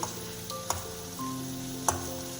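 Potatoes fry in oil with a soft continuous sizzle, punctuated by a few light taps and stirring clicks, quiet and close with no talking.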